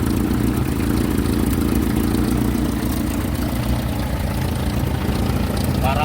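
A Toyota 7K engine idles steadily and loudly, a continuous low rumble with an even throb that holds unchanged throughout, close by, with no talking over it.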